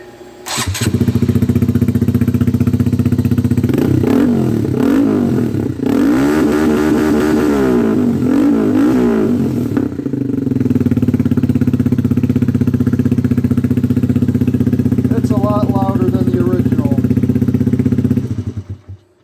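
A 2018 Honda Grom motorcycle with a YOSAYUSA aftermarket exhaust starts up, idles with a loud close burble, then revs up and down several times before settling back to idle, no talking.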